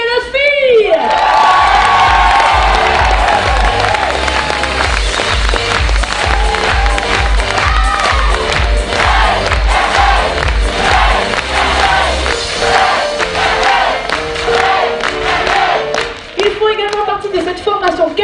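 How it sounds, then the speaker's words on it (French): A big crowd at a stage show in Millau claps and cheers loudly for the performers, with shouts and whoops over sustained applause and a rhythmic bass beat pulsing underneath. "un tonnerre d'applaudissements pour toutes les Calas filles"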